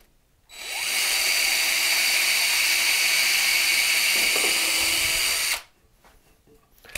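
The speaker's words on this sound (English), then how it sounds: "And I'm going to drill a hole." A power drill whines steadily for about five seconds as it bores into inch-thick oak, starting and stopping abruptly, loud and close, with quiet before and after.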